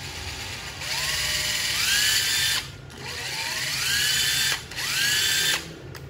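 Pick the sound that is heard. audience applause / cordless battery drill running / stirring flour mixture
cordless battery drill running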